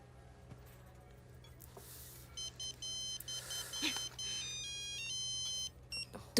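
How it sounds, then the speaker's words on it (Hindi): A phone rings faintly with a mother's incoming call, repeating a beeping electronic ringtone melody in short bursts against a quiet background hum. "तुम्हारी माँ का फोन है।"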